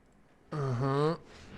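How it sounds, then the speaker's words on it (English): A house cat lets out a single drawn-out meow, close and fairly loud, rising and bending in pitch for about half a second against a quiet room. "Sorry, that was the cat."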